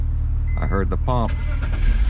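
A BMW E46 325i wagon from 2001 with a replaced fuel pump cranks with a whirring starter and catches into an uneven, rough idle, close and loud.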